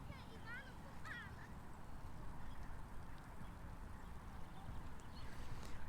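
Ducks quack in short bursts near a duck house on a park lake in Kyiv's Troieshchyna district, faint against broad outdoor ambience and low rumble.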